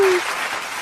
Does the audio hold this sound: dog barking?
no